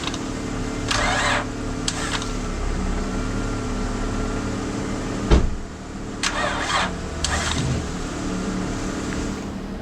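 An Acura TL with a 6-speed gearbox, unstarted for two years, cranking in short bursts of starter whirring separated by pauses, with one sharp knock midway, heard up close and without talk.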